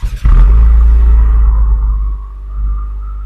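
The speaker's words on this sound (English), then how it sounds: "Let's hear this exhaust, and it sounds really nice for a stock exhaust." A 2025 Acura TLX Type S with its stock exhaust gives a loud, deep rumble close by that swells quickly and then settles into a lower drone with a slight rise near the end.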